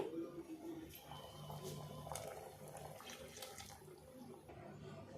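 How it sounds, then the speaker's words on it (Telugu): A steady stream of water pours and splashes from a jar into curry in a pot, continuous and fairly close, with no talking. "జార్లో కొద్దిగా వాటర్ పోసి ఈ వాటర్ కూడా ఈ కర్రీలో పోసేయాలి."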